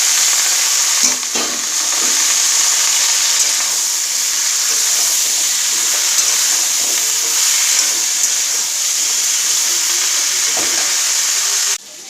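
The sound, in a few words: vegetables frying in a wok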